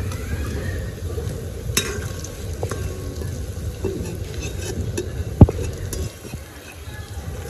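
Batter-coated paneer (chhana) pakoras fry in hot oil with a continuous close bubbling sizzle, broken by a few clinks and one sharp knock.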